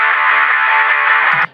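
Electric guitar track played back through a plugin effect in Pro Tools, a sustained, dense distorted tone ringing steadily for over a second before cutting off abruptly.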